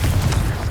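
Fiery blast from the Confringo spell in Hogwarts Legacy, a short, loud, low boom with a rumbling crackle that stays strong across the brief moment, no speech.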